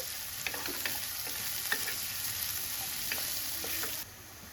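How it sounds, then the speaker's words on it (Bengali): Minced onions frying in a pan toward light brown give a steady close sizzle with scattered crackles and occasional stirring scrapes, cutting down slightly near the end, with no voices. "পেঁয়াজ কিমাগুলো একেবারে লাল লাল করে ভেজে ফেলা যাবে না, হালকা বাদামি কালার করে ভাজতে হবে।"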